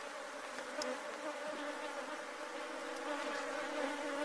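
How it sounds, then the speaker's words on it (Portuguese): Honeybees buzzing densely around hive boxes just after rain, a continuous close droning swarm hum with no voices. "As abelhas estão mais agressivas do que o normal, que acabou de dar uma chuva."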